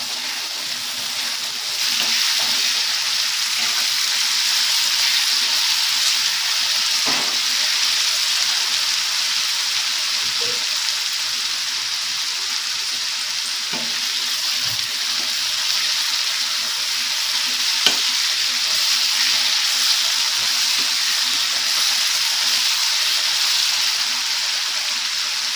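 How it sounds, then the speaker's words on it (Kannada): Spicy puffed rice mixture with salt and sugar fries in a pan for a Davangere/Haveri-style mandakki mudde, giving a steady, even sizzle throughout with occasional faint clicks of stirring. "ಒಂದು 10 ಮಿನಿಟ್ಸ್ ಚೆನ್ನಾಗಿ ಫ್ರೈ ಮಾಡ್ಕೊಳ್ಳೋಣ."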